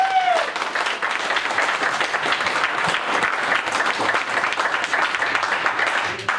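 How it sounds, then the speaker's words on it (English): An audience applauds a panel steadily throughout, a dense, continuous wash of clapping from many hands, sustained and fairly loud. "go ahead and applaud for the panel"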